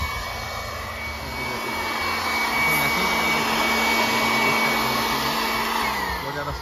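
A grain threshing machine blows air to separate chaff from paddy, giving a loud, steady rushing roar with a low engine drone underneath, continuous and close throughout.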